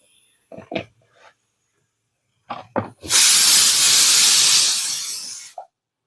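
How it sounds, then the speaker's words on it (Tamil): A kitchen mixer grinder grinds coconut and chilli powder masala for radish sambar in one loud, steady, gritty burst of about two and a half seconds, with brief kitchen clatter before it. "இதையுமே நம்ம குறை குறைப்பாக அரைக்கணுங்க ரொம்ப மையாக அரைக்கக்கூடாது"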